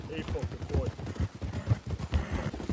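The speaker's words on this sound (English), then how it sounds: "This is the slowest 2K horse ever" A horse gallops in the video game Red Dead Redemption 2, its hooves pounding in a quick, steady rhythm of dull thuds under faint background voices.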